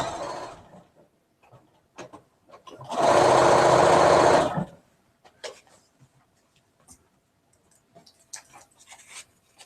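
Sewing machine stitching quilt pieces for a two-color mystery quilt, heard as one loud steady run of about two seconds in a quiet room, with only faint scattered handling noises around it.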